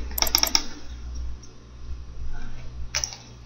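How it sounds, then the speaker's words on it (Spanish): Two quick mouse double-clicks near the start, sharp and close, opening a WinRAR installer on a Windows computer, followed by a single click near the end over faint background hum. "Abrimos el instalador dando doble clic."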